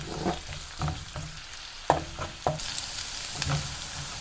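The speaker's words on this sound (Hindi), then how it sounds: "और साथ ही ये ज़ीरा डाल दूँगी, सिर्फ ज़ीरा शामिल करना है इसमें" Cumin seeds sizzle softly in hot oil with fried garlic and green chillies, with a few sharp pops and utensil clinks over a low crackle, close by and fairly quiet.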